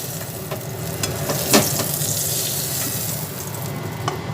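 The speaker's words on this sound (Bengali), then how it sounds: "আলুটাকে একটু ভেজে নিয়ে আলুটা তুলে রাখবো" Potatoes fry in hot oil in a pan, giving a steady close sizzle throughout with occasional sharper spits and stirring sounds, no voices.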